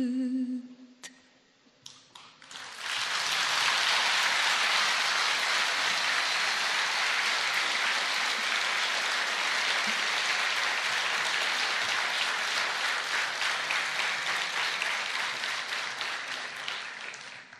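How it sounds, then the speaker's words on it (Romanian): An audience at an album launch bursts into dense, sustained applause after a song ends. It starts abruptly after a brief musical tail, stays loud and even for over a dozen seconds, then tapers slightly. "am simțit în aplauze, pentru că sunt aplauzele sincere pe un cântec adevărat"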